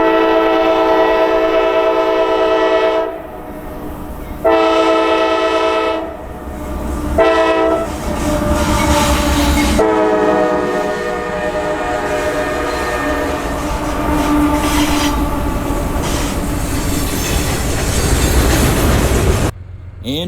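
A freight train led by a heritage-painted locomotive crosses an old Kentucky Central railroad bridge, its loud sustained horn blasting repeatedly over steady rumbling and clattering wheels, close and continuous with no talking.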